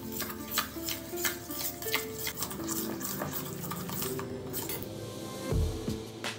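Flour and oil are stirred together in a cup with a spoon, making soft repeated scraping and clicking strokes in a steady rhythm, fairly close, over faint background music.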